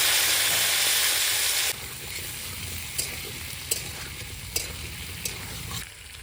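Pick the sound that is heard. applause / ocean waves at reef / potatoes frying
potatoes frying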